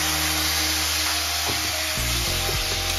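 Drumstick stems sizzle loudly and steadily in a pan after a soaked cumin paste goes in, with a few brief scrapes and knocks from stirring.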